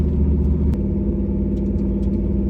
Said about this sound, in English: Engine's still running great.